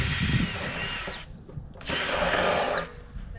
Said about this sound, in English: Let's drill another one right there on it.